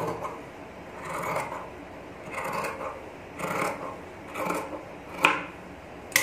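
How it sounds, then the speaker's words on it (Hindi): Scissors cutting through trouser fabric: a series of five or six short, crisp snipping strokes at a steady pace, close and clear, with no talk. "यहाँ से मैं इसको कट कर लूँगी।"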